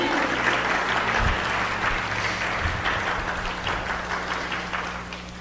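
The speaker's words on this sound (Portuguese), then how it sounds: "Queridos, dê uma salva de palmas" A church congregation claps in sustained applause, a loud dense patter of many hands that continues steadily and tapers slightly toward the end.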